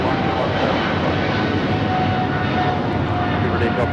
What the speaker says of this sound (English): This is British Airways 282 taking off to London Heathrow on the 777-300ER